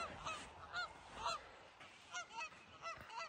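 Canada geese honk repeatedly in short, bright bursts, some farther off than others, with a steady outdoor hiss underneath and no one talking.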